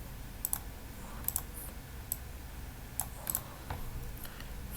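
Computer mouse clicking as Power World Simulator software is operated: sharp, close single and double clicks at irregular intervals over a low steady hum.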